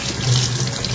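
Running tap water pours steadily into a sink while dishes are rinsed, a brief, close, continuous hiss and splash.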